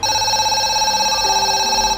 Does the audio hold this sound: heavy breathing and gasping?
no